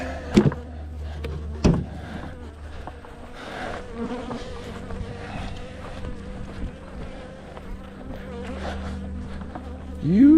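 Honey bees buzz steadily around a beehive during an inspection, a dense, continuous drone close by with a few brief louder passes near the ears, no voices.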